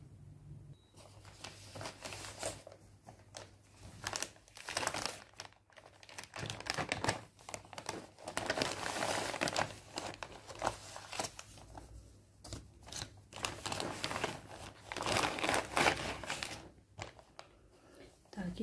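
Plastic bag holding an unfinished cross-stitch embroidery kit crinkles and rustles in irregular bursts, close and fairly quiet, while someone talks softly over it.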